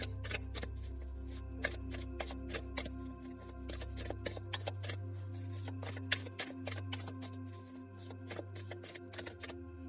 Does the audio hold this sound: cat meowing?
no